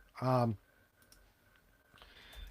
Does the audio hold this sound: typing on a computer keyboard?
yes